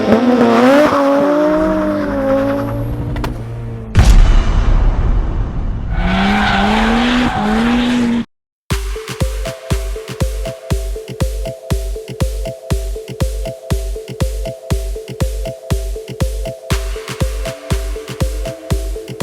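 A 2015 Mitsubishi Lancer Evolution X GSR is driven hard, with loud tire squeals and engine revs, then a steady run of rapid rhythmic pulses after a brief gap, with no talking.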